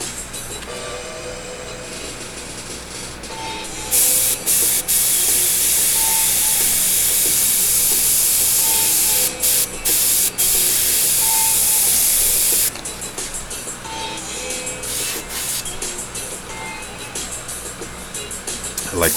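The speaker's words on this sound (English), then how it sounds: "I like to spray off the card onto the area of where I'm putting the color." An airbrush sprays paint onto a card in bursts of steady airy hiss that stop and restart briefly, with quieter stretches between and a person talking nearby.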